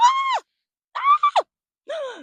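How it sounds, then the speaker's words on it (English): A woman screams in three short, strained vocal bursts separated by brief silences, the middle one breaking into quick stuttered cries; loud and close. "Sorry, I didn't mean to scream."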